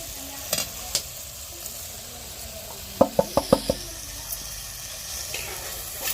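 A spoon stirs tomato masala for omelette curry in a pan, with a quick run of sharp knocks and scrapes against the metal over a soft, steady background.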